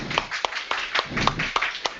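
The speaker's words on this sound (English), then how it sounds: "Everybody give a round of applause." A college accounting class giving a round of applause: a handful of students clapping unevenly, with sparse, distinct claps over a bed of room noise and murmuring, fairly close and moderate in loudness, lasting about two seconds.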